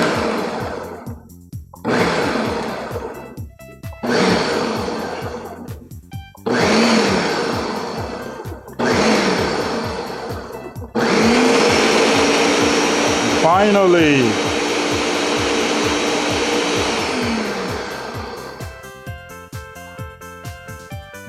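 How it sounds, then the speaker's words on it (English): Blender pulsing crab meat stuffing for shrimp: five short, loud whirring bursts with brief gaps, then one longer sustained run as the motor settles; a voice speaks briefly. "instead of using our hand, we're utilizing the blender."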